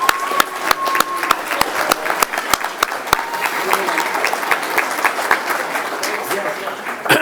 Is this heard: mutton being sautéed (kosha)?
no